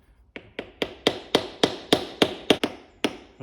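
Hammer tapping on Reliant Scimitar GTE gearbox and clutch parts, around a dozen sharp metallic knocks in a steady rhythm, close and loud, each ringing briefly.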